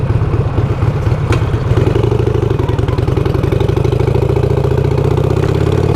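A Harley-Davidson Iron 883 motorcycle engine runs steadily on a morning commute, a loud, close, continuous throbbing rumble that holds an even rhythm throughout with no speech.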